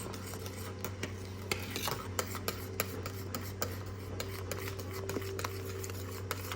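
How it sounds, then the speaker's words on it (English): A spoon stirs spring roll sauce in a pot over lowered heat, making light, irregular clicks and scrapes against the pot over a low steady hum. "So just stir it."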